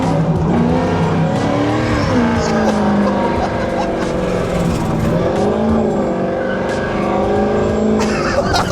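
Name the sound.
Chevrolet C10 sleeper truck engine revving and driving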